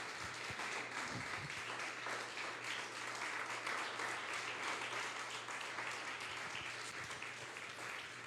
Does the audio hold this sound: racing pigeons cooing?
no